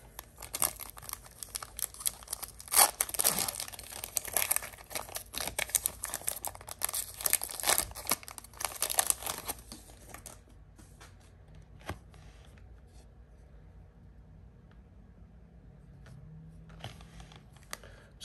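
Marvel trading card packs are torn open up close: dense crinkling and ripping of foil wrappers in quick bursts for about ten seconds, then quieter handling and occasional faint rustles.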